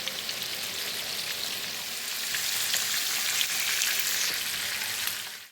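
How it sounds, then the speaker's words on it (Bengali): Broiler chicken pieces frying in hot oil for a home-style chicken and potato curry, a steady close sizzle and crackle that swells louder partway through and continues to the end. "ব্রয়লার মুরগি তো তেলে ভেজে রান্না করলে ভালো লাগবে"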